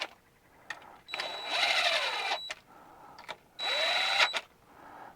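Two bursts of a rapid, whining mechanical rattle from an impact gun running bolts in on a 2011 Impala's 4T60-E transmission pan, each lasting over a second with a brief quiet gap between, fairly close in a quiet shop.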